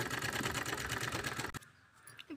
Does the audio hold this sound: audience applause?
no